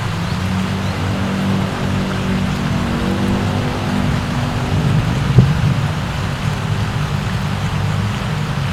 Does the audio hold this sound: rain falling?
yes